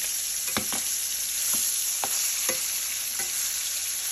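Salmon fries in browned butter in a pan with a constant bright sizzle, broken by a few soft taps and scrapes of a spatula, close and steady.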